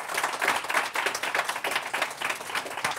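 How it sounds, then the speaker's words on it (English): An audience applauds the panelists at the close of a discussion on a sustainable global food system, with steady, dense clapping throughout and no talk. "a round of applause for our panelists."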